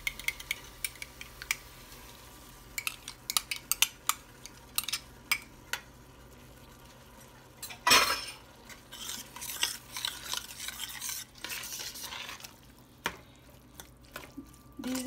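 Green peas and yogurt being stirred into masala in a pan for matar paneer, with intermittent spoon clinks and scraping against the pan, quiet and irregular, with one louder clatter midway and no talk.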